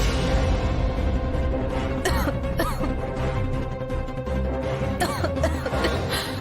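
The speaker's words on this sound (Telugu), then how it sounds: "ఏమైందమ్మా అలా దగ్గుతున్నావు?" A woman coughs in short, repeated bursts after drinking milk in a television drama scene, heard over a steady background music bed.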